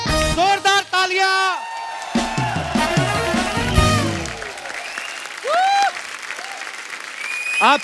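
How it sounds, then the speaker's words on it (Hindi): Studio audience applause greeting the Rocket Boys cast on a Hindi talk show, clapping and cheering mixed with music stings and swooping effects, with a host's voice coming in over it. "जोरदार तालियां।"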